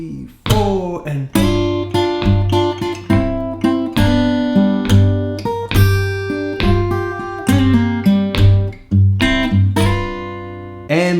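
A Delta blues lick on guitar mixes thumped bass notes with plucked lead phrases and strummed chords, loud and close, in a steady rhythmic pattern of ringing picked notes.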